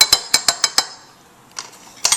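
A spoon clinks sharply against a mixing bowl five times in quick rhythm while stirring cake batter for a Bacardi piña colada cake, then pauses before a scrape and another clink, close and clear.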